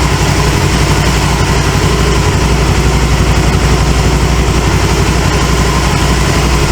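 A 2009 Can-Am Spyder RS engine running steadily at idle, loud and close, a continuous low rumble with a constant throb and no pauses or voices.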